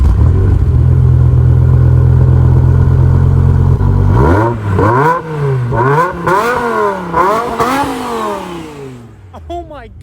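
Supercharged BMW M5 E60 with a V10 engine starts up close by, settling into a steady idle before a series of sharp revs that climb and fall repeatedly, then a final quick blip as it quiets.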